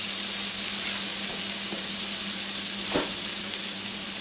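Salisbury steak patties frying in a pan over medium heat, a steady close hiss of sizzling fat with one brief spatula clatter near the end, no voices.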